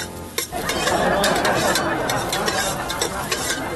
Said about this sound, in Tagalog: O, kita nyo naman. Kulong-kulo.